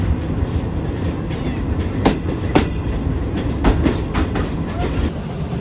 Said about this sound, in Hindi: पंजाब में हमारी ट्रेन दाखिल हो चुकी है।